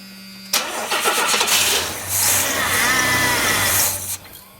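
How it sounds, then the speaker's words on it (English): An engine on a budget turbocharged 250 build cranks over and catches in a starting attempt, a loud sustained churning roar that runs for several seconds before cutting off, heard alone with no talk. "crank it over."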